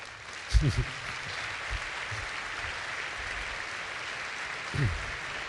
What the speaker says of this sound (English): receive the warm applause that they all deserve